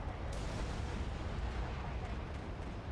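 Large R-27ET missile explosion in the video game War Thunder, a broad sustained rumbling blast with a dense low roar filling the whole stretch, no talk over it.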